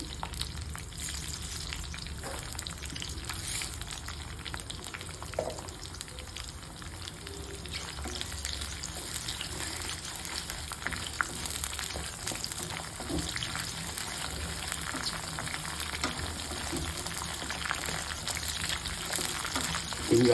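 Spices frying in oil in a pan, a steady continuous sizzle with faint crackles running throughout, moderately quiet and close.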